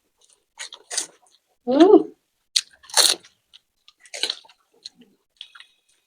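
Crunchy fuchka (panipuri) being eaten during an eating challenge: several short, close crunching and biting bursts with quiet gaps between them, plus a brief voiced murmur.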